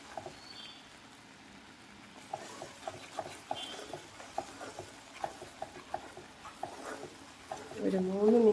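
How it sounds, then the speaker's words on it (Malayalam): Spoon stirring a thickening mixture in a pan over a medium flame, giving soft, irregular scraping taps at close range, with a low sizzle building toward the end. "ഒരു 3 മിനിറ്റോളമെങ്കിലും ഇതിങ്ങനെ ഇളക്കി കൊടുത്തുകൊണ്ടേയിരിക്കുക."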